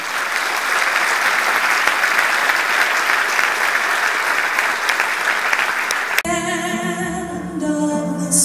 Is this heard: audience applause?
yes